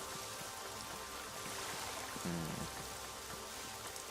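Rain falls in the Neverwinter Nights video game, a steady soft hiss of drops that runs throughout, with a brief tonal game sound partway through and no speech.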